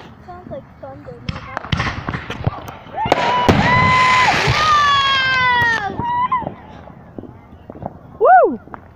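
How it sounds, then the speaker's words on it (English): Fourth of July fireworks pop and crackle at a distance in several sharp bursts, mixed with whistling rising and falling tones, while people nearby talk and cheer over them. "George, saw fireworks over there"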